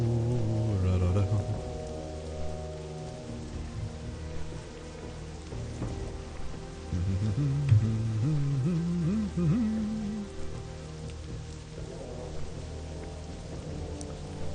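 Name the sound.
rain weather effect in video game WoW Classic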